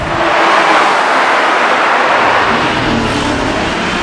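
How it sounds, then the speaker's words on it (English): A Lexus LFA or Acura NSX sports car engine roars continuously and loudly at high revs in a tunnel, the sound dense and reverberant. "Revs are building, the cams are phasing. What an engine!"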